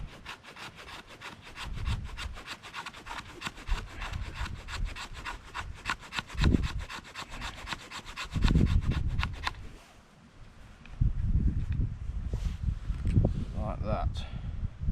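Back of a knife scraping fine shavings from wood for fire-making in freezing cold weather, heard as steady rhythmic rasping strokes, close and fairly loud, with a few heavier scrapes and a brief pause near the end.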